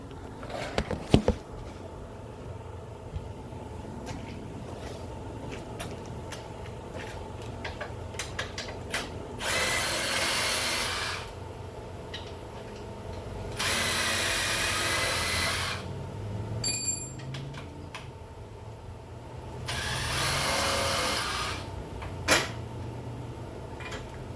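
On a Polaris Sportsman 570, a power tool backs out transmission bolts in three separate whirring bursts of a few seconds each, with metallic clicks and handling noises between them in a quiet workshop.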